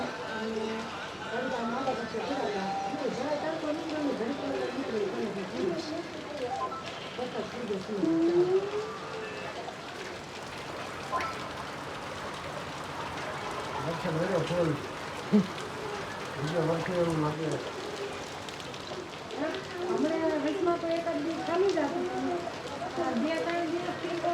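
Rain falls in a constant hiss in a village while people talk throughout, their voices mixing with the wet background noise.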